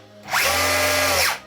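MJX RC rally car electric motor on a 3S battery giving a single quick throttle blip, a brief whine that rises, holds and falls away, close and loud with no talking.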